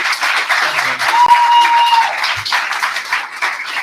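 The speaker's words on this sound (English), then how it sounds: "Give him a huge round of applause." A crowd at a state legislative campaign kickoff breaks into loud, sustained applause, dense clapping mixed with cheers and whistles that holds steady throughout.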